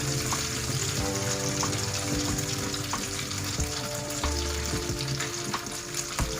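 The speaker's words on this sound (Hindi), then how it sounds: "हमने अपने गरम ऑयल में इसको डाल देना है।" A breaded chicken parcel deep-frying in hot oil in a kadhai gives a loud, continuous sizzle and bubbling hiss that holds steady throughout, with no voices.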